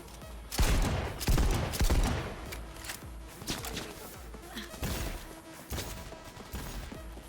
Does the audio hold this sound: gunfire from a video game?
yes